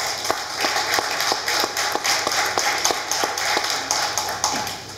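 Steady applause from a crowd, a dense wash of clapping with regular sharp taps standing out, continuous and fairly loud throughout.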